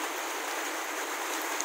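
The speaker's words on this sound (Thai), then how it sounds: "ฝนครับฝนตกหนักมากครับ" Heavy rain pours steadily outdoors in a broad, even hiss, loud and unbroken throughout with no voices.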